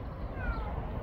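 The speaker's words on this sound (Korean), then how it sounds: "고시기도 야옹." A single brief, fairly soft cat meow sounds close by over a low, continuous background hum.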